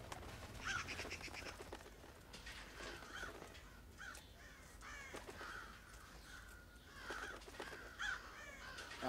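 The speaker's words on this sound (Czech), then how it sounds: "Ježiš, ty ptáci jsou fakt blbý." Crows caw repeatedly in the stealth video game Thief (2014), harsh calls recurring over a steady ambient bed with no talking.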